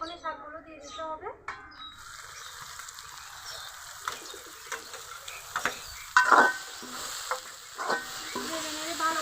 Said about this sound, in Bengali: নেড়ে নেড়ে ভালো করে ভেজে নেব।